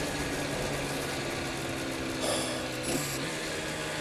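A Yamaha TZ250 racing motorcycle engine runs steadily with a constant droning tone, heard with a couple of brief higher bursts, no voices.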